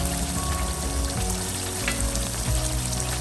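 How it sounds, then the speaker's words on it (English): Cambodian prohok khtiss simmering in a pot: a steady, close bubbling sizzle that keeps going throughout, with a few soft pops, and no voices. "I'm gonna let it simmer for the flavors and the color to come up"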